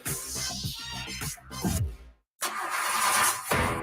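A car engine cranks over and over without firing, the starter churning in loud bursts that break off into a short silence before the cranking resumes.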